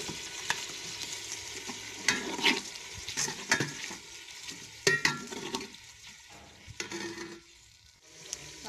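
Ginger-garlic paste sizzles in a pan with browned onions while a spoon stirs and scrapes, the frying hiss steady with intermittent clinks, close by and with no speech.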